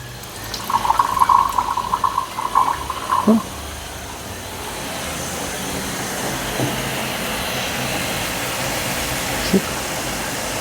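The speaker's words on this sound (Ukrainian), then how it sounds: "Зайву водичку зільємо" Excess water is poured off canned tuna on a gas stove, a steady rushing, splashing stream that carries on for several seconds after a brief stretch of talk.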